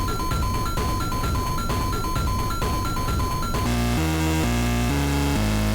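Sprunki video game character sounds all layered together, a loud, dense cacophony of repeating beeps, buzzy tones and pulsing beats that shifts into a lower, chunkier looped pattern partway through, with no talk.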